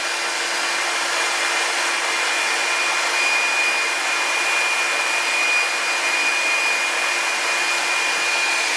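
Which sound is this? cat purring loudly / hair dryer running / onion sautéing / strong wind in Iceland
hair dryer running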